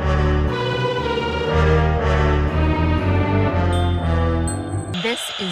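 Magenta Bat 4 bat detector picking up bat calls in a rural Cornish old mill farm setting: a steady stream of electronic tonal clicks and warbling pitches, loud and continuous throughout, with no voices.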